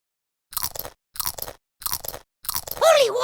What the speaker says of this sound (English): Win a sticker for every 20 correct crackers you feed Polly